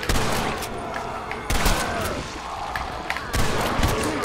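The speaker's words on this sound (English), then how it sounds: "I think I just shot that guy twice, didn't I?" Gunfire in Red Dead Redemption: Undead Nightmare, with three loud, booming shots spaced a second or two apart over a dense, noisy backdrop of game action.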